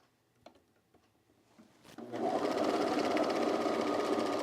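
A few soft clicks and handling noises give way to a sewing machine stitching denim jeans, running fast with a steady, close mechanical whir.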